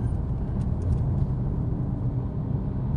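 A car travels along a road, heard as a steady, close, low rumble of engine and tyres that stays even throughout, with no talk.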